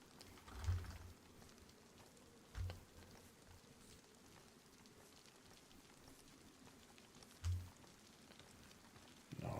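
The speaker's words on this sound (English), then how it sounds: "At the moment I pretty much like the rain because it camouflages my own noises." Steady, soft rain falls in the DayZ video game on the Deer Isle map, a faint continuous patter broken by a few dull low thumps.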